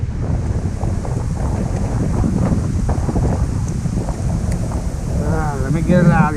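Strong, gusty wind buffets the microphone on a fishing outing by the water, roaring continuously throughout, with a voice briefly audible near the end.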